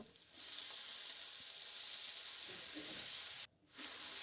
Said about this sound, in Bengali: টমেটো বাদামটাকে ভালো করে একটু নাড়াচাড়া করে নিয়ে